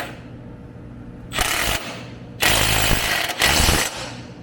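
Power tool tightening a fastener on an aluminum washer fluid reservoir in a Jeep Grand Cherokee WK2, three loud close buzzing bursts of about half a second to a second each, separated by short pauses.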